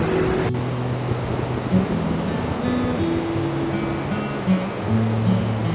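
A heavy, continuous rush of water falling from the spillway of Malampuzha Dam in Palakkad roars nearby during rain, with a faint low hum running underneath.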